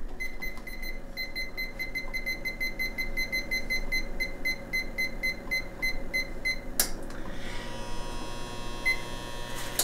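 Repeated electronic beeping from a kitchen oven timer while sausage, egg and cheese buns bake, a steady series of bright tones over a low hum, then changing to a denser tone near the end.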